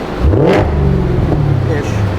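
A Cadillac CT5-V Blackwing fitted with an AWE SwitchPath exhaust revs up in a single throaty blip, then settles into a rumbling idle, loud and close.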